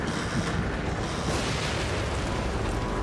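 Dense, continuous booming and roaring game audio from the gondola shootout in The Evil Within, with gunfire and explosions blended into one loud, steady wash.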